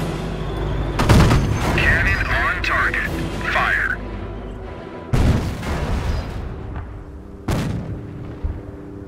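Cannon blasts and gunfire from the Company of Heroes Normandy invasion campaign boom in three heavy bursts, with radio-style voice chatter and rattling between the shots.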